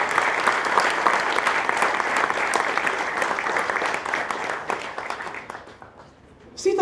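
An audience at a ploughing competition applauds steadily, the dense clapping fading toward the end before a final burst.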